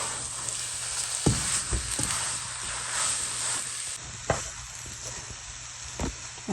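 A moong dal halwa mixture cooks in a pan with a soft continuous sizzle, and several sharp spoon scrapes and stirs come through at irregular intervals.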